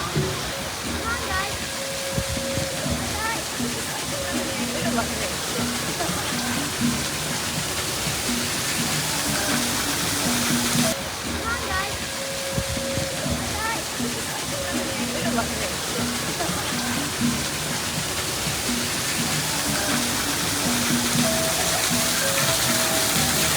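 Waterfall at the Tree of Life in Disney's Animal Kingdom pours steadily, a broad continuous rushing wash like heavy rain, heard close and loud throughout with no breaks.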